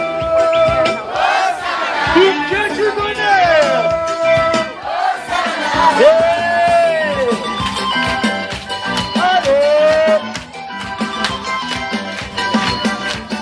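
A crowd of teenagers at a holiday club presentation evening shouting and cheering loudly, with long rising and falling group yells and whoops over continuous crowd noise, and a brief spoken line near the end.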